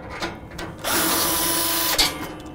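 A powered driver whirs steadily for about a second as it backs a Torx fastener out of the back panel of a Rittal TS-8 equipment cabinet, close up, with light clicks before and after.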